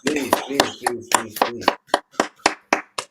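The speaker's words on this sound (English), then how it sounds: "Round of applause" A small audience claps in a steady run of about a dozen sharp, distinct claps, with a voice and a cheer mixed in at the start before the clapping carries on alone.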